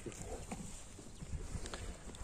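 Hooves of a young horse clip-clop on the ground as it walks, several soft, uneven steps heard fairly faintly with light rustling around them.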